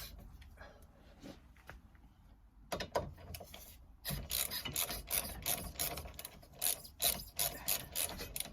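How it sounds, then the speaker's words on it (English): Ratchet with an H7 hex socket undoing bolts during rear subframe removal on a Mini Cooper S R53, quick clicking ratchet strokes starting softly and growing louder and denser, repeated in bursts, close up with no talking. "We've got a H7 hex socket to undo them."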